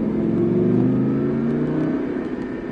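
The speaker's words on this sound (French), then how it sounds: "Et on débraque et on accélère." A car accelerating on a driving-course track at Folembray, the engine note rising steadily and loud and close, then easing slightly toward the end, with no talk.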